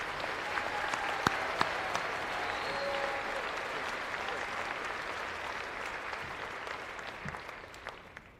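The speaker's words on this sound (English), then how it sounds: "Please join me in giving the awesome class of 2023 a round of applause for their many achievements and successes." Sustained applause from the crowd at a 2023 graduation ceremony, a broad steady roar of many hands clapping that holds evenly for several seconds with occasional sharper claps near the front before tapering slightly.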